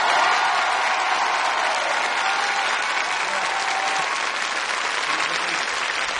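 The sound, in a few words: audience applause welcoming Jean-Marie Bigard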